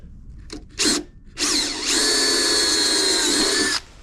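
A power drill makes a couple of short whirring bursts, then a sustained whining run as it bores a 3/16 inch pilot hole for self-tapping screws on a Jeep Wrangler build, then stops abruptly.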